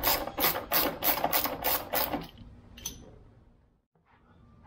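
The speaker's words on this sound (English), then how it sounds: "12 millimeter socket to take the seat off." A 12 mm socket wrench on the seat bolts of a Suzuki DR650 motorcycle gives a quick burst of close ratchet clicks for about two seconds, then stops, leaving a faint, quiet tail.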